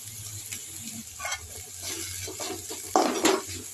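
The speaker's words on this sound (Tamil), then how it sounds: "ஒன்றா போட்டு விட்டு வதக்கி விட வேண்டியது தான்" A spoon knocks and scrapes through a coconut, green chili and potato mixture sautéing in a pan, giving soft intermittent clinks and a faint sizzle, with a louder scrape near the end.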